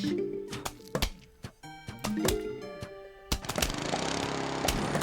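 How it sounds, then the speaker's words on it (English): The lawnmower in the Plants vs Zombies video game clearing a row of zombies. Game sounds with sharp repeated hits and tones run throughout, and they build into a loud, sustained rough mechanical roar for the last second and a half. "See, that's what the lawnmower does. It just clears a row of zombies."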